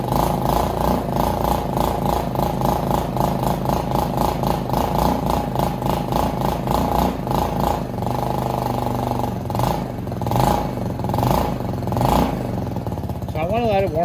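A Venom x22GT 250cc automatic motorcycle engine fires up and settles into a steady, rapid idle, loud and close, holding an even throbbing rhythm with a slight wavering near the end.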